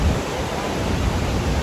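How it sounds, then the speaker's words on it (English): Iguaçu Falls in Brazil roars as a steady, dense wash of falling water close by, broadband and unbroken with no voices. "All right, more waterfalls."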